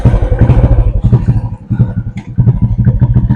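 Royal Enfield Classic 350 motorcycle engine running close by, a loud, steady thumping single-cylinder throb with mechanical clatter, dipping briefly mid-way before picking back up.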